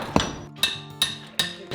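A hammer taps near a brick fireplace during a farmhouse renovation, four or five sharp close strikes spaced about half a second apart.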